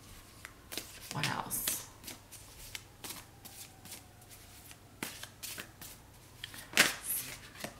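Tarot cards are shuffled by hand in irregular riffling bursts and soft slaps, close and moderately loud, with a brief spoken question in between.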